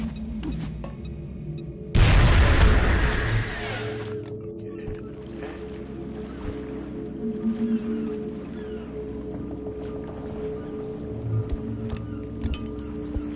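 A thrown fragmentation grenade goes off in one loud, sharp blast that rumbles and decays over about two seconds, followed by quieter background noise and faint clinks.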